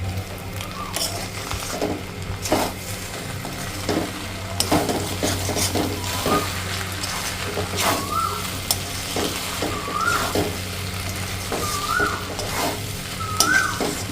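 Raw jackfruit muri ghonto being stirred with ghee over a high flame, a continuous sizzle under recurring scrapes and knocks of the spatula against the pan, with a faint steady hum behind.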